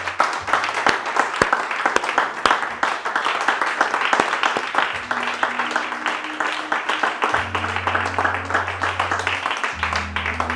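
A church congregation claps and cheers for the Lord, a steady broadband wash of applause running throughout at moderate loudness, with sustained low organ or keyboard notes beneath and no clear speech.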